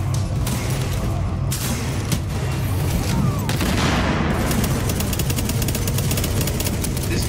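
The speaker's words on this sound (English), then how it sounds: "Tossing grenade." Dense, continuous gunfire and booming blasts, including a frag grenade explosion, fill a firefight in The Division's subway morgue, with overlapping automatic bursts throughout and no clear gaps.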